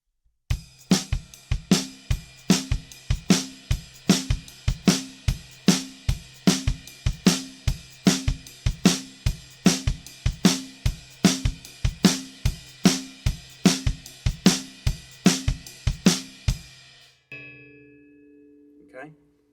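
Drum kit playing a steady chorus groove with the pattern moved onto the ride cymbal, even bright cymbal strokes over kick and snare, repeating for about seventeen seconds before a brief ring-out.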